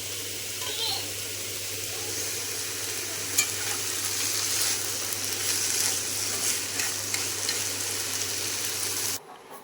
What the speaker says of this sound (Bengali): তো এবার সেই শাকটা ক্রিম শাকটা ভেজে নিচ্ছি